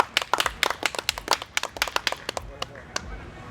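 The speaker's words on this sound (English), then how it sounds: "Round of applause for that" A small audience at a hip hop mural panel discussion claps, sparse and uneven individual hand claps, fairly close, rising briefly and then tapering off into scattered last claps.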